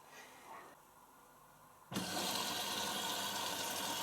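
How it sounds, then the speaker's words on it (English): An Indesit Innex XWA 8kg washing machine starts drawing water partway through, a steady rushing hiss that switches on abruptly after a quieter stretch and holds loud and even to the end. "It will fill up initially, drain briefly, then there's a long wait before it starts filling up water."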